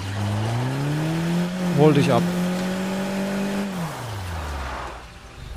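A car engine in State of Decay 2 hums steadily, its pitch dipping and rising as it drives, with a brief skidding burst midway and a short German phrase over it.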